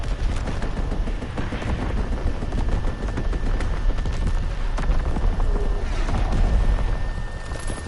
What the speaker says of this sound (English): Fighter aircraft ready. Call for a strafing run.